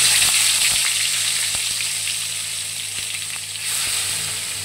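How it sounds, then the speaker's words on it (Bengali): Spice-marinated silver carp pieces frying in hot white oil in a wok, a steady loud sizzle with crackling pops throughout, no voices. "এবারে আমরা মশলা মাখানো মাছগুলোকে ভেজে দেব"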